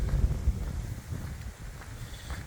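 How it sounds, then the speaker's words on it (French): Gusty wind buffeting a microphone outdoors on a solo walking route, a low rumbling roar that is strongest at the start and then eases into softer, uneven gusts. "Désolé, il y a du vent."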